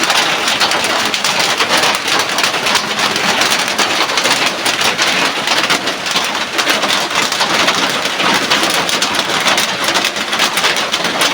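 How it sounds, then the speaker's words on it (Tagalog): Heavy rain pours down in a steady, loud roar, and faint rumbling rises from beneath it. No voices are heard. "Kailan kaya iinto ang ulan ito?"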